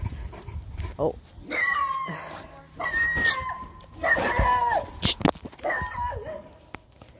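Great Dane on a training walk outdoors, giving short whimpering yelps and barks over steady breathing, with a person speaking briefly nearby.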